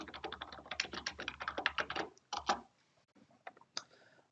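Fast typing on a computer keyboard while entering spreadsheet data, a close, dense patter of key clicks for about two seconds, then a few scattered keystrokes after a pause.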